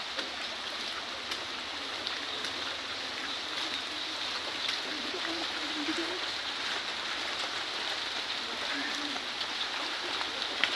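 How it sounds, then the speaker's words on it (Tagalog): Rain falling near a swollen, fast-running stream, a steady broadband hiss of water that stays even and fairly close throughout with no break. "Yan, nagulan na po."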